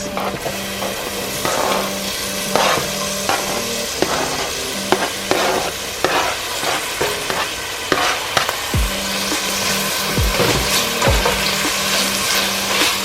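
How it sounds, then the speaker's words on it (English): Tomatoes and green onions sizzle and crackle in a hot pan for collard greens, with a continuous loud frying hiss and occasional scraping stirs, close up and without voices. "Saute for 2 minutes. Tomatoes and green onions."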